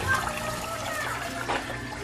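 Water pours steadily into a pot for cooking rice, a continuous splashing fill heard close by, with someone talking over it.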